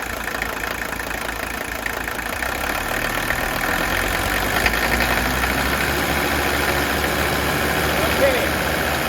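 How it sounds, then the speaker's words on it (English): Diesel engine in a truck running steadily near idle, then coming up off idle with a slight rise in level midway; a continuous, fairly loud mechanical rumble throughout. "Now watch what happens when I bring it off of idle on this engine."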